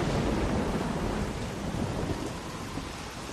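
Thunderstorm in The Walking Dead video game, a low rumble of thunder over constant heavy rain that eases slightly toward the end, with no talking.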